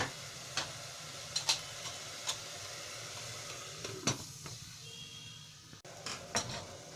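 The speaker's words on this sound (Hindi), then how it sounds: "बस ध्यान रखना है कि हम बीच बीच में मसाले को चलाते रहेंगे।" Masala of spices and bottle gourd frying covered in a pan, with a steady low sizzle and several sharp clicks of a spoon stirring and scraping against the pan, close by.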